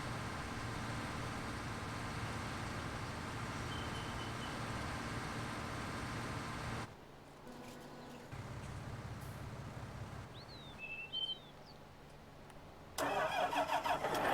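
A John Deere tractor with wide tires in a farming video game: an engine starts and runs steadily and loudly, then drops to a quieter idle with a few brief changes before revving up again at the end.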